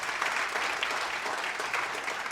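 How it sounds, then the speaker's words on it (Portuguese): A church congregation claps steadily at a revival anniversary celebration service, a soft, even wash of applause sustained throughout with no voices over it. "Vamos aplaudir a Jesus pela vida dele."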